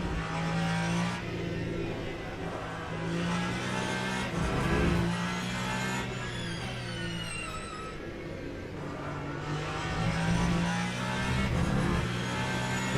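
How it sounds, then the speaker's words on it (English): Race car engine droning and revving continuously through a lap in drizzly conditions at Spa in the Le Mans Ultimate game, loud and close with shifting pitch and no talk. "Let's see how strong the car is going to be in these drizzly conditions."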